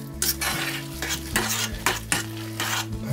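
A spoon scrapes and stirs a potato patty mixture in a saucepan, giving repeated rhythmic scraping strokes about every half second over a faint background hum.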